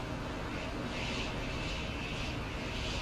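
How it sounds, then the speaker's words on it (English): A helicopter flies in the physics-based video game Stormworks, a constant, dense engine and rotor roar that holds steady throughout with no talking. "I'm actually flying the helicopter using the auto hover at the moment."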